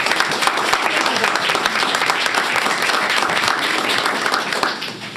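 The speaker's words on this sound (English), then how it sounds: "Round of applause." Audience at a school district board of education meeting breaks into sustained applause, dense steady clapping from a room full of people lasting several seconds before tapering slightly at the end.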